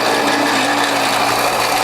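A Whole Health Foundation juicer crushing ginger, a steady loud mechanical grinding and ratcheting hum, close and continuous with no pauses.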